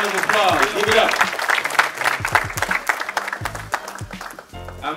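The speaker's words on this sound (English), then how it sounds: "give him a round of applause. Give it up." Audience at a Black Male Summit gives a round of applause, loud sustained clapping with crowd noise while a voice speaks over it and cheers punctuate the clapping.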